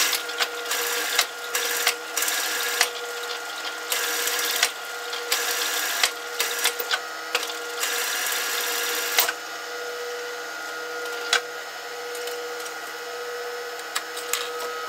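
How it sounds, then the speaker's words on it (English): A sewing machine stitching a fabric sock puppet runs in rapid mechanical bursts, stopping and starting repeatedly, then settles into a quieter steady hum with occasional clicks. "you can start your sewing machine."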